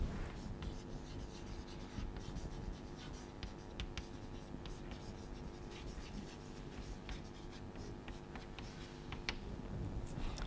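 Chalk or marker writing on a board during a university logic lecture, a steady scratchy rubbing with small ticking taps throughout, fairly faint against a room hum, with no voice in the stretch.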